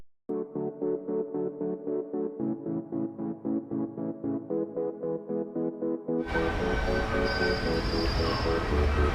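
A Delhi metro train rolls along in a steady rhythmic clatter of wheels over rail joints, then a loud broadband rush with a high whine takes over as it runs through or pulls into the station. No one speaks.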